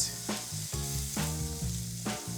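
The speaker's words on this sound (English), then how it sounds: "I'm gonna come over here and fry it up. Hit my pan with some olive oil. My pot is hot." Onions, bell pepper and minced garlic frying in olive oil in a hot pan, a continuous close sizzle with rhythmic crackling bursts and pan shuffles recurring about every second, no voices.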